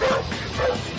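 A search-and-rescue dog trained to alert on human scent gives two short, yelping barks close by, a brief pause between them.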